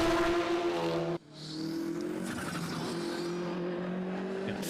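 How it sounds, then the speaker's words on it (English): Porsche race car with a flat-six engine at Circuit Zolder during Supercar Challenge qualifying, a loud, steady engine drone with a brief cut around one second before the revs pick back up, with other race traffic mixed in. "Fabulous noise that the flat 6 on the Porsche is making."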